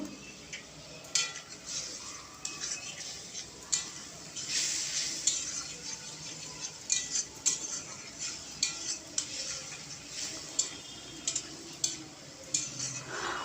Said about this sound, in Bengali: একটু একটু জল দিয়ে দিয়ে মশলাটাকে ভালো করে কষে নেব